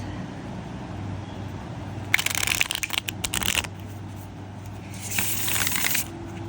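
A new Illuminati tarot deck is riffle shuffled, giving two crisp, rapid bursts of fluttering card snaps a few seconds apart over a quiet room hum.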